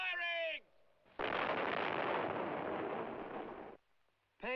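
An army artillery gun fires with one loud, sustained blast and roar lasting a few seconds, bracketed by a voice just before and after.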